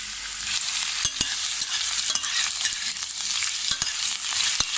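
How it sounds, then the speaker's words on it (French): Onions fry in hot olive oil with a soft, continuous sizzle, punctuated by sharp clicks and scrapes of a utensil stirring the pan; close and without speech. "Quand l'huile est bien chaude, je viens mettre mes oignons pour les faire revenir"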